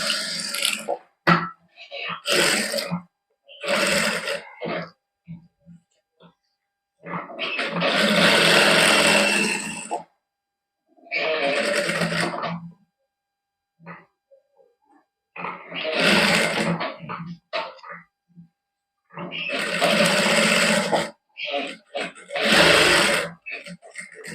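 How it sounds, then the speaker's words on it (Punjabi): A sewing machine stitches side seams on a garment in a boutique, running in repeated bursts of a few seconds each, separated by silent pauses, close and fairly loud. "ਇਸ ਤਰ੍ਹਾਂ ਦੇ ਸਿਲਾਈ ਲਾ ਲਾਂਗੇ ਆਪਾਂ ਸਾਈਡਾਂ ਤੇ"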